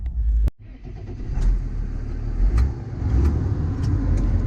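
A farm tractor engine, hitched to a dung spreader, rumbles and revs steadily for several seconds, with a loud low drone and a few sharp rises in pitch, nearby and alone.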